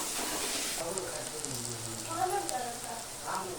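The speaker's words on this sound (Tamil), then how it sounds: "பூண்டு வதக்கிறேன்." Garlic sautés in hot oil in a pan, a soft steady sizzle and crackle running throughout, with faint background voices and a few brief clatters.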